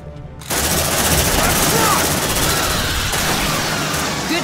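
A sentry gun firing nonstop in the Aliens: Dark Descent video game, a loud, dense stream of automatic gunfire starting abruptly after a brief moment and holding steady to the end.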